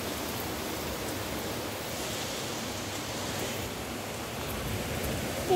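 Rain falls steadily outdoors, a continuous even hiss of broadband noise with no distinct drops or pauses, moderately loud throughout.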